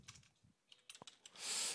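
Quiet keystrokes on a computer keyboard tap out in an irregular run of soft clicks, followed by a louder hiss of noise at the end.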